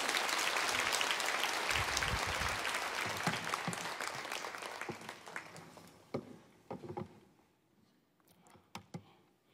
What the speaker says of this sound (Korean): 강명옥 전사님 앞으로 나오실 때 박수로 환영해 주시면 감사하겠습니다.